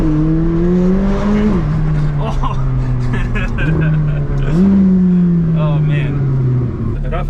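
A McLaren sports car engine drones loudly, its pitch dropping sharply at each gear change with brief exhaust pops as ignition cuts, while people talk over it.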